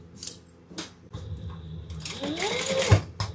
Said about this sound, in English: we're going to stitch just the top edge and the sides